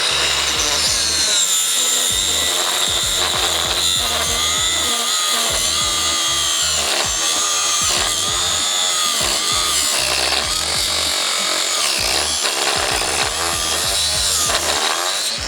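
A loud angle grinder cutting disc grinds steadily up close, its harsh whine pulsing rhythmically as it bites through a metal Hiplok DX1000 bike lock, with no talking.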